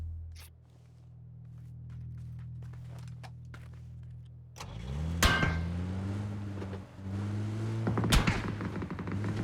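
A car engine in the PUBG video game, steady and humming at first, then revving and shifting pitch as the car drives, with sharp knocks and thumps in the second half.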